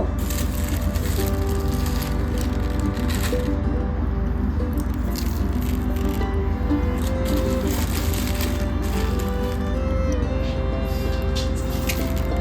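Sweet dough mixed with white sesame seeds is kneaded by hand for anondo naru, giving a steady, close, wet squishing and pressing that runs continuously without pause.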